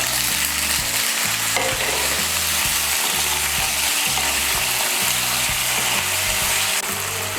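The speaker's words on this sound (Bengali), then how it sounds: "শিম, আলু আর বেগুনকে হালকা একটু ভেজে নিয়েছি।" Beans, potatoes and eggplant fry in oil seasoned with fenugreek seeds, a loud, steady sizzle right up close, broken by the rhythmic scrape and clatter of a spoon stirring the vegetables in the pan.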